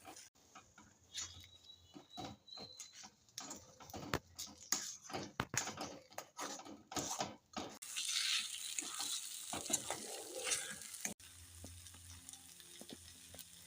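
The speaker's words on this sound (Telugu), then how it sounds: "వేగుతున్న ఉల్లిపాయల్లో మిశ్రమాన్ని కలుపుతున్నాను." A lentil mixture being stirred into frying onions in a pan, with close, irregular scraping and clattering stirring over a soft sizzle, no talk.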